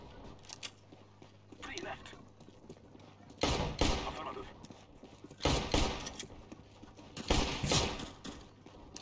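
Gunfire in the video game CS:GO rings out in several sharp bursts of shots at irregular intervals, with quieter game noise between them.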